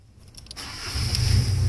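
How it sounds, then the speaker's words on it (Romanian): A Mitsubishi Lancer engine is started by remote control. After a short quiet pause and a few faint clicks, the engine cranks and catches. It then settles into a steady idle rumble, close by. "Pornim motorul"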